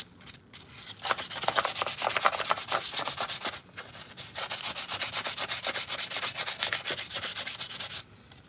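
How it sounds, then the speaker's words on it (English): Sandpaper is rubbed by hand over a 3D-printed armor piece, giving steady, rapid back-and-forth scratching strokes that are close and fairly loud, in two long runs with a short pause between them. "Trying to find ways to sand these hard to reach and little detailed pieces."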